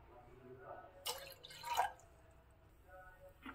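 Water poured into a cooking pot for traditional huli comes as a couple of short, faint splashing bursts with quiet dripping in a hushed kitchen.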